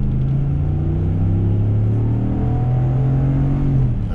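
A 2019 RAM 1500 Limited crew cab 4x4 pickup accelerating, its engine giving a loud, steady low rumble with a rising tone, heard close from inside the cab and with no talking.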